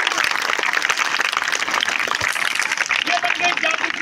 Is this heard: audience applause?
yes